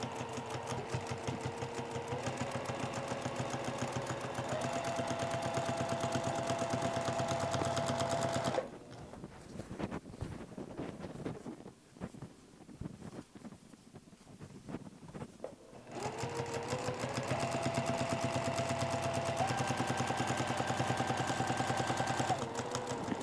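A sewing machine stitches quilt binding in a steady, fast whirring run, stops for several seconds of quiet handling, then resumes stitching at the same even pace.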